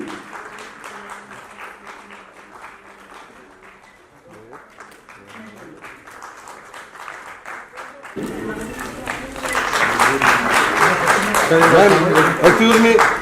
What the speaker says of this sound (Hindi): तालियां लगातार मिलती रहें।